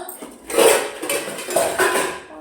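A tea strainer and dishes are handled in a home kitchen, giving clattering metal and crockery clinks in a few close bursts across a couple of seconds, with no talking.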